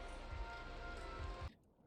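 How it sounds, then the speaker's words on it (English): Steady rain hiss in the Minecraft-style game world Create Perfect World, an even wash of falling drops with a few low thumps underneath, cutting off abruptly near the end. "Oh, it's raining."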